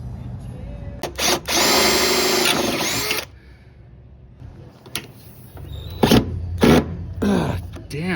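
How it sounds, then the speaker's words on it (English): A power drill whines steadily for about two seconds as it drives a self-tapping screw to mount a relay in a car's engine bay, followed by quieter handling noises and a few shorter bursts near the end. "Then I'm going to mount the relay right here with a self-tapper"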